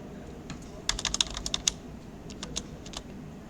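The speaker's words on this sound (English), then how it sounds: "type the command sudo mv" Typing a command on a computer keyboard during a Hive software installation, heard as a quick cluster of crisp key clicks followed by a few scattered keystrokes, close and fairly clear over a low background hum.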